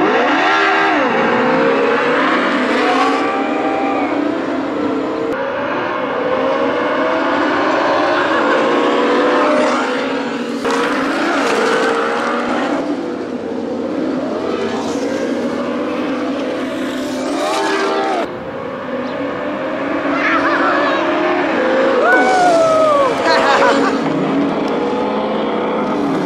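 Ninebot Go-Kart Pro electric go-karts racing, a loud continuous whine with rising and falling pitch sweeps as they accelerate, close by and steady for the whole stretch, no talk.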